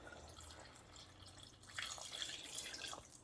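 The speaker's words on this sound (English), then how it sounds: "I'm going to add some water to it." Water trickles and drips into a pot of pork chile verde on the stove, a soft, close, uneven splashing that grows a little busier partway through.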